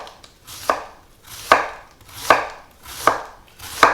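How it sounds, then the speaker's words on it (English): A knife slices through a head of cabbage into thin strips on a cutting board, five crisp, evenly spaced chops about every 0.8 seconds, close and clear with no talking. "And we just want to slice this"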